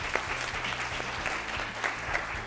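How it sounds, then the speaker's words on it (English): An audience at a school quiz final claps for a competing team, a dense, even burst of applause filling the room throughout, with no voices over it. "Let's clap for them, please"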